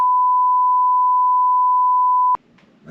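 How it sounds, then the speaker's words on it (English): A steady pure-tone censorship bleep covers speech for over two seconds, loud and unbroken, cutting off abruptly into faint background voice and room sound. "I don't know if you had to beep this out."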